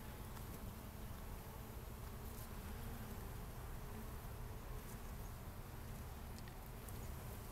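Honeybees swarm around an open beehive during an inspection, a dense, steady buzz filling the whole stretch, close and continuous, with no talk.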